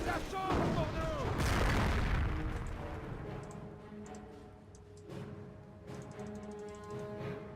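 Artillery bombardment in the strategy game Company of Heroes opens with a loud explosive boom that rolls into a long fading rumble, followed by quieter in-game tones and distant effects.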